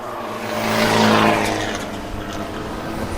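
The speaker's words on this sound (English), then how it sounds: "Chinawood, Supercar, Charat, and Suwat makes it into the finish line." Race cars crossing the finish line at a TSS 2020 circuit race, one engine roaring past in a rising and fading sweep, followed by further engine noise in the distance.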